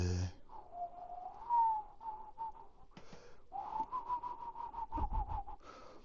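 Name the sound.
whistling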